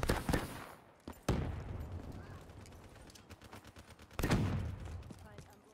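Gunfire crackles during a Call of Duty Black Ops 3 multiplayer match on the Stronghold map: several sharp shots and short automatic bursts at close and middle distance, with quieter game noise between them.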